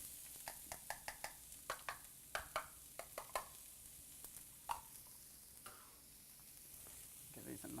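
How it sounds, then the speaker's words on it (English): Garlic and onion sauté in a pan on the stove for a stuffed cabbage filling. A faint, soft sizzle is broken by a run of light clicks and taps from stirring, with a quiet voice now and then. "we're ready to begin sauteing the ingredients to stuff inside of our cabbage"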